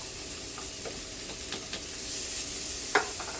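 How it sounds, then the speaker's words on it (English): Celery and garlic dropped onto sweated onions in a pan for smoked turkey corn chowder, a soft continuous sizzle with a few light stirring scrapes and one sharper clink near the end, fairly quiet. "Okay, I'm gonna add the celery and garlic now."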